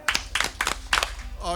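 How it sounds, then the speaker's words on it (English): Audience members at an acoustic music night in a park clap along in a loose rhythm, a few uneven group claps spaced apart, close and moderately loud, ending with a brief sung or spoken voice. "Sloppy on the claps."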